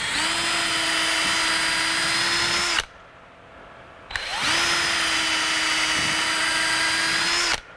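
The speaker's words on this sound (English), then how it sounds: "maybe theoretically I can just keep drilling holes in this thing," A power drill bores holes into a suspension bushing in two long, loud, steady whining bursts separated by a short pause, close by and alone.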